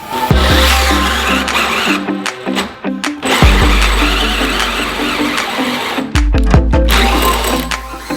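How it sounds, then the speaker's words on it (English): A power drill bores into stair-railing wood with a spade bit. The motor whines loudly in long runs, with a low rumble under it, and stops briefly a few times before spinning back up, close and alone. "My drill is literally smoking."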